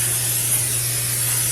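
Cooking oil spray hisses steadily from a can into a frying pan, a close, even burst of spray lasting over a second.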